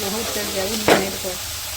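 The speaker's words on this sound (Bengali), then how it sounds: "মাংসগুলো একটু ভালো করে ভেজে নিই।" Meat frying in a pan in a village kitchen, a steady close sizzle with a brief louder stirring scrape near the middle, with faint tonal background sounds.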